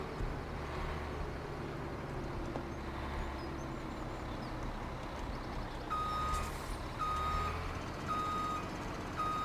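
Repeated reversing beeps from a truck backing a trailer in Farming Simulator 17, a steady series of short electronic tones over a continuous engine rumble, fairly loud and close with no talk.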